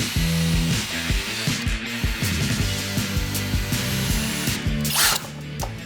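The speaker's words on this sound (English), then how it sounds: "I drive in the screws to attach my horizontal pieces to the footboard" A power drill drives screws into the wooden frame of a canopy bed, attaching horizontal pieces to the footboard: repeated whining motor bursts with pulsing starts and stops, close and loud, ending in a short hiss.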